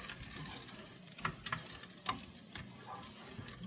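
Frozen corn, peas and carrots hit a pan of onions and sizzle softly, with a few sharp clicks and scrapes of a utensil stirring through the mix, and no one speaking.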